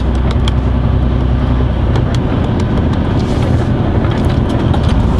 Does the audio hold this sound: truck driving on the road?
yes